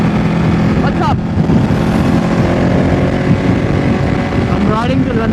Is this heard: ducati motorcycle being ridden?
yes